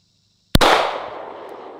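A single sharp pistol shot cracks out after a brief silence, fired into a test target to check penetration, followed by a long, fading echo tail with no talking.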